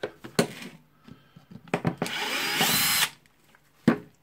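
Power screwdriver bursts while unscrewing a screw from a DeWalt D25123 rotary hammer drill during disassembly, with a sustained whir of about a second between sharp clicks and handling knocks close by.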